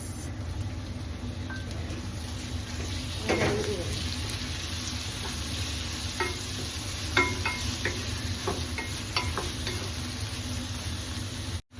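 Garlic, ginger and tomatoes sizzle steadily in a pan while chicken wings are being cooked. The frying hiss runs continuously, with occasional stirring scrapes and a few spoken words over it.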